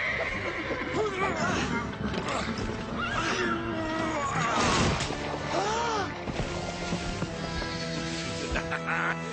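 A horse neighs and whinnies loudly several times, with hoof clip-clops and some background voices mixed in.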